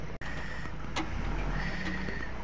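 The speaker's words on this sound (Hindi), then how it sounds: "गाड़ी मोड़ रहे हैं हमारे उस्ताद जी" A car turns along a road, carrying a steady, moderate engine and road rumble with a couple of brief clicks and knocks over the top.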